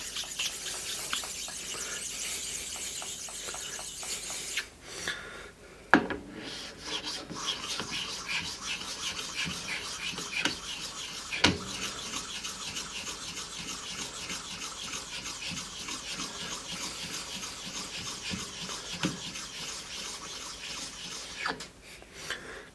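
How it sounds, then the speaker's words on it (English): A flat sharpening stone is rubbed over metal parts of a lathe to take off burrs, giving a long, steady gritty scraping with occasional sharper clicks and knocks, fairly quiet and close. "Take off flat stones and run over it and take any burrs off."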